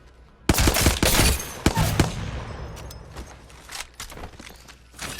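Apex Legends gunfire tapped in short controlled bursts to manage recoil: a quick cluster of sharp, loud shots early on, a few more cracks after, then scattered fainter reports and ringing tail.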